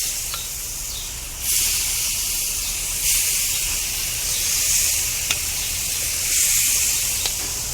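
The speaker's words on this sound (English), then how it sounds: "now I'm going to take our fish and I'm going to lay it right on the grill" Fish and jalapeño sizzle on a hot gas grill with a steady, bright hiss that swells each time more food is laid down, close and continuous, and no talking.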